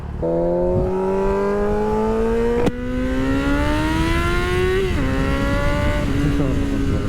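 A motorcycle engine accelerates while being ridden, a loud, close droning whine that climbs steadily in pitch, drops sharply at two gear shifts, then climbs again.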